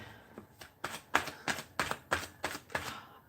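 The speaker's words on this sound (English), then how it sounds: "as I'm shuffling the cards" Playing cards being shuffled up close, a quick series of about nine crisp riffling bursts in a steady rhythm, quiet and alone without talk.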